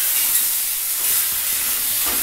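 Cooked chicken tossed into mixed chow mein frying in a pan, a steady close sizzle and hiss with soft stirring scrapes throughout.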